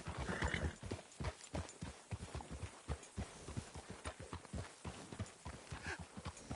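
Steady clip-clop of horse hooves close by in Red Dead Redemption 2, a rapid rhythmic trot that carries on throughout with no voices.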